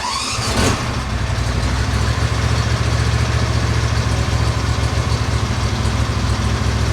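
An engine cranks briefly and catches, then settles into a steady, loud, close idle with the choke on and no throttle applied, a continuous low rumble with no talk.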